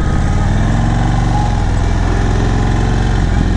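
An Indian Chief motorcycle engine hums steadily while riding, a loud, continuous low rumble at constant speed with no pauses, close to the microphone.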